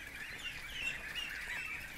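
A goose on a small farm honks in a steady run of nasal calls, close and moderately loud, with no talking over it.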